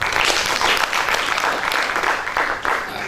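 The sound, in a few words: audience hand clap for presenters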